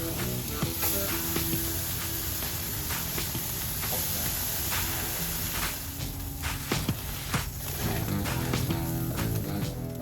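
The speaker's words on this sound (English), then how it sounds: "Get that hot sear on them." Beef short ribs sear on the hot grates of a gas grill, giving a loud, steady sizzle with scattered pops and crackles that runs the whole time without any talk.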